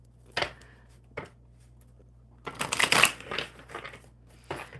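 Oracle cards shuffled during a live coffee-and-cards session, giving soft papery riffles and taps: two short bursts, then a denser run of shuffling, then one more, all close and fairly quiet with no talk.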